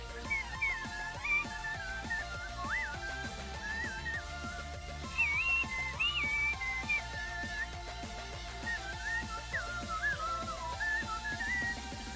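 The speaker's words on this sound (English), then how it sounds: "How high can I whistle?" A person whistles a wandering melody along to a song, the clear whistled notes riding over steady background music with a beat throughout.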